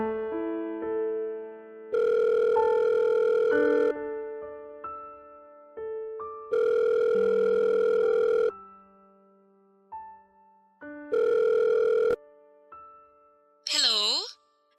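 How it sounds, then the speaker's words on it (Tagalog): Telephone call being placed: repeated long electronic ringback tones in three bursts, with steady musical background tones between them and a brief rising electronic chirp at the end. "Agad kong tinawagan si Weng."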